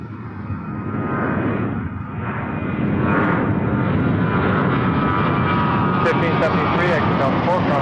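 Airliner jet engines roar loudly and steadily on a runway at Toronto Pearson Airport, building over several seconds into a sustained rumble, with a radio voice from air traffic control running beneath.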